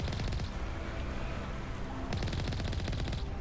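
Heavy gunfire and rocket blasts in a Mass Effect firefight, a dense continuous barrage with bursts of rapid shots throughout, loud and close.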